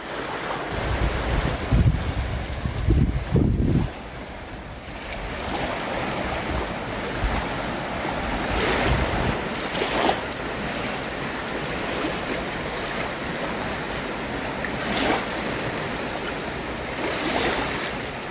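Waves wash onto a small beach in steady, rolling surges, mixed with heavy wind buffeting the microphone and a few louder thumps near the start, with no voices.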